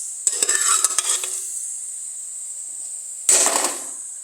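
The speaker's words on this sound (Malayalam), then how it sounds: "ഇനി നമുക്ക് കടല ഇടാം." Chickpeas are stirred into a frying masala of onion, tomato, ginger-garlic paste and chilli powder, giving a loud close sizzle with spoon scrapes, a quiet pause, and then a second short burst of sizzling.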